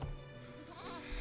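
A goat gives a single short bleat, fairly faint and set against steady background noise, with no voices.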